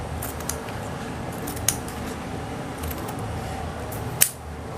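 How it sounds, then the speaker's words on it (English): Scissors trimming fabric for sewing African men's wear, a buba and sokoto, heard as three faint, sparse snips spread over a steady background hiss, with no talking. "We can cut it, trim it."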